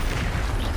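Expulso spell explosion in a Harry Potter video game, a loud dense booming blast that fills the whole moment with rumbling crackle, close and heavy, no talk.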